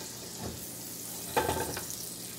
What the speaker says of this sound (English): you put your onions in